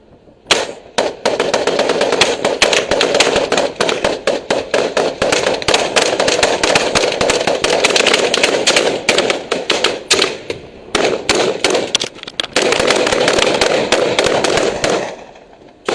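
Warning shots of gunfire ring out in rapid, dense volleys for most of the stretch, loud and close, with brief gaps between bursts and no talking.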